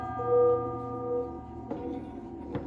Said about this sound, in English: Let's get a gong in to clear the air.